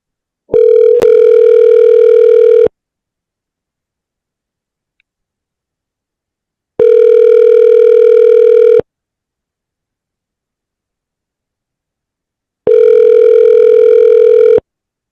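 An outgoing telephone call rings back three times, each a loud, steady two-second electronic tone followed by several seconds of silence.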